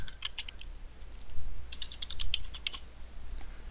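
Someone types on a computer keyboard while entering a MATLAB help command, producing a few scattered bursts of light, crisp key clicks. The tapping is close and moderately quiet, with short pauses between runs.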